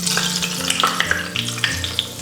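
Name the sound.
pork belly frying crispy in a wok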